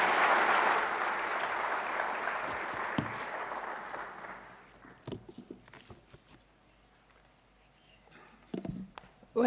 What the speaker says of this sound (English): Why are you people clapping like you all have jobs?